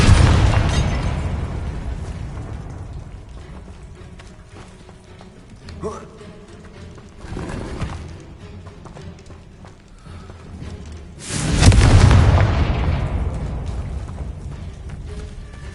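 A Confringo fire blast spell explodes in the Hogwarts Legacy video game, with a loud booming burst at the start, smaller pops midway and a second heavy blast that rolls off slowly.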